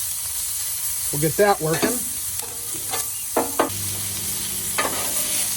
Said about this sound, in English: Let's lay down this spicy sausage.